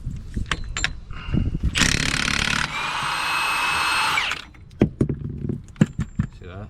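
A power tool whirs in a loud, sustained burst for a few seconds, removing axle nut bolts on a car, surrounded by clanking metal and workshop noise with some talk before and after.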